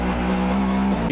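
A Mustang race car engine runs with a loud, sustained, buzzy roar and a steady pitch that shifts slightly near the end. It is close and alone, with no voices.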